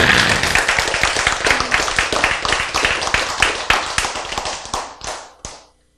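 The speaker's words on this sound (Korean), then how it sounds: "여러분이 박수를 쳤지만은" Audience applause at a church sermon, a dense burst of many hands clapping that carries steadily, then thins out and stops abruptly near the end, with no talking over it.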